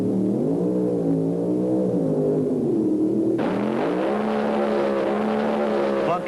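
A 1,750-horsepower Hemi-engined Plymouth Satellite drag car roars down the strip, a loud sustained engine howl that shifts pitch partway through as it pulls through the traps.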